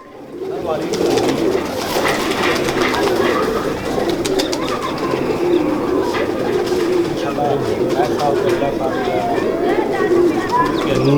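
Pigeons coo steadily throughout a keeper's loft of show pigeons, a soft continuous burble of several birds close by, with someone talking over them most of the time.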